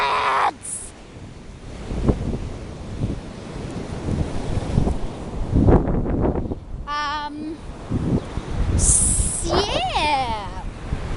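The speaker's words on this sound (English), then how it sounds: "It's quite windy" Gusty beach wind buffets the microphone in a continuous rough roar that swells and dips, with brief bright voices cutting through now and then.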